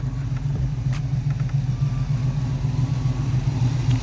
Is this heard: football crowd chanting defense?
no